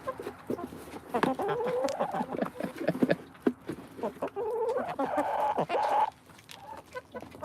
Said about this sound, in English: You hear them purring? So chickens purr when they're happy.